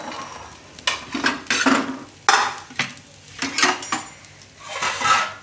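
A spoon stirs and scrapes methi matar pulao rice through a pan in repeated bursts, with metallic clinks and soft scraping strokes, faint sizzling underneath, close and without talk.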